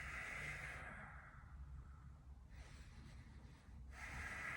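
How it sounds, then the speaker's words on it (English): Soft nasal breathing during a Pilates-style hundreds exercise, with a slow airy exhale through the nose, then a quieter gap and another breath starting near the end. It is close and faint, with no talk. "I inhale to the nose, exhale to the nose to create my curl."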